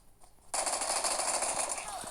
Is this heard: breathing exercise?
no